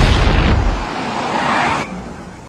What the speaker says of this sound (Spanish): Parece que hubo una explosión de humo en la cancha de Boca.